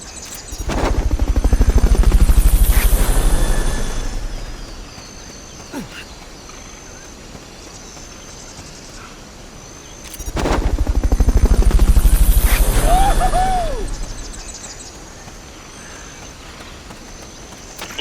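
Helicopter in a Metal Gear video game swells in twice, its rotor thumping loudly as it passes close, then fades to a quieter background hum with faint chirping between passes.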